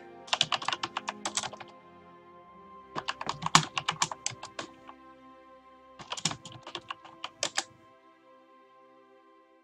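Typing on a computer keyboard during an Europa Universalis IV game session, with three quick bursts of close, crisp key clicks separated by short pauses.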